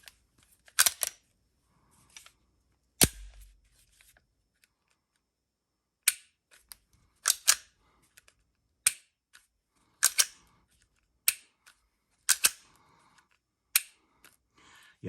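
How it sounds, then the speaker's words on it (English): Rifle trigger dry-fired over and over, sharp metallic clicks and snaps in a loose irregular series with quiet gaps between them, close and crisp, with a low thump early on and no talk. "not a bad trigger on there"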